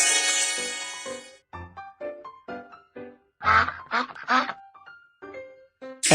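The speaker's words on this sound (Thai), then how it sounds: "เป็ด" Cartoon duck quacks in a children's school-themed video game hearing test, a few bright quacks in the middle, set between cheerful synthesized music phrases.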